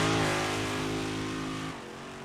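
A 358 modified dirt race car engine in the iRacing video game holds a loud, steady drone, then the pitch drops as the throttle eases off.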